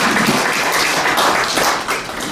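Loud, dense applause from the crowd at the Tongil News 22nd anniversary celebration, continuous close clapping that fills the whole stretch at an even level with no talking.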